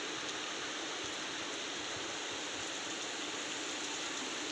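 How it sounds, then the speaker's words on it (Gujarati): Steady rain falls with water running nearby, forming a continuous, even hiss and rush with no breaks and no voices. "અને હવે તો વરસાદ આવી ગયો છે."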